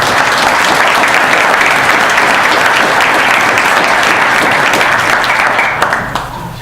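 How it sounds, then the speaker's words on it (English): Loud, dense applause from a large crowd at the Toast of Lynn museum gala, sustained and even throughout before tapering slightly at the end. "So a round of applause for all of them."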